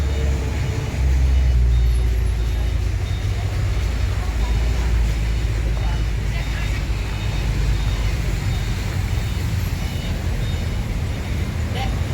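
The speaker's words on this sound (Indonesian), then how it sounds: "Lalu lintas padat di pagi hari ini di tanggal 9 Juni." Heavy morning traffic at a four-way crossroads with buses passing, a dense, constant low rumble of engines close by, with faint brake hiss and a voice talking over it.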